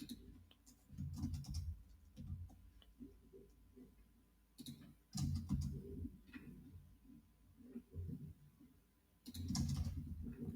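Keys tapped on a computer keyboard while writing captions, soft close clicks coming in short irregular bursts separated by brief pauses.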